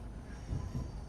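A Class 390 Pendolino passing alongside in the railway simulator game Train Sim World 5, heard as a brief, faint low rumble of rolling wheels with a slight swell midway.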